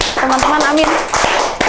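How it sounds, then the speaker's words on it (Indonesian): A few sharp hand claps ring out at a steady pace, close and under ongoing talk in Indonesian. "Kita tepuk tangan, bagus."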